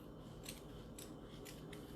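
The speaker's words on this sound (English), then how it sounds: "Except these scissors are not really cutting very well." Dull scissors cut through a bouquet's handle wrap in four quick snips, close and quiet, with no talk.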